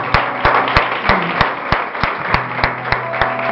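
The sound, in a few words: church congregation applauding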